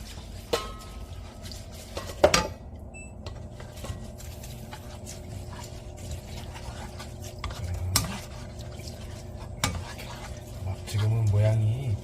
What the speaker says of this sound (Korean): 같이 넣고 볶아줄 겁니다.